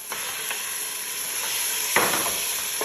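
Meat sizzling loudly in a pan with ginger and garlic, a close, continuous hiss broken by stirring scrapes and bursts of crackle as it is mixed.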